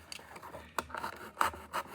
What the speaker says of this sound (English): And I can move that cardboard as I'm cutting.